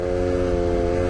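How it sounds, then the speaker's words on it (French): A quad bike's new engine, still being run in, drones loudly and steadily through a wheelie, holding a constant rev with a strong harmonic buzz and no breaks. "Wheeling devant les gamins."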